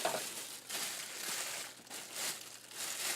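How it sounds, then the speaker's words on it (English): Plastic bag wrapping on a DX9 Grimlock toy crinkles and rustles continuously up close, with repeated louder crackling bursts as the thin plastic is handled and torn open. "which I guess my little plastic bag here has ripped"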